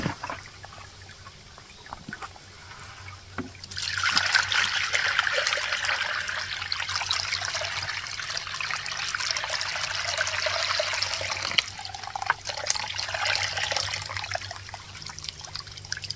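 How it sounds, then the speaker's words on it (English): Wet sluice box concentrates being poured and washed into a blue Minelab plastic gold pan, a quiet trickle swelling into a steady watery rush with occasional light knocks. "I'm going to put this into this pan, my blue Mine Lab pan."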